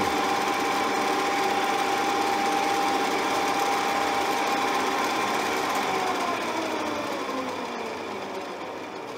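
Schaublin SV52 milling machine running steadily at about 2000 RPM, a loud continuous whirring hum with a faint whine, fading slightly toward the end and no speech.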